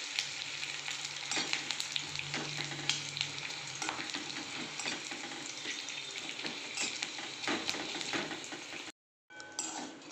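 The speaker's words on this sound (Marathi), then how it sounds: "चांगलं व्यवस्थित त्याला हलवून घ्यायचं आहे" Papad chutney stirred in a hot pan, continuous close sizzling with frequent scraping strokes of a spoon, ending in a brief silence before the frying resumes.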